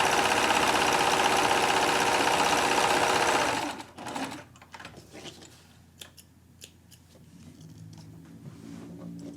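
A sewing machine runs steadily and loudly, stitching near the edge of skirt fabric, then stops after about four seconds, leaving quiet handling noises and faint clicks.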